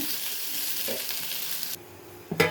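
Capsicum sizzling in hot oil in a pan, a loud frying hiss that drops off abruptly near the end, followed by a brief clatter of stirring.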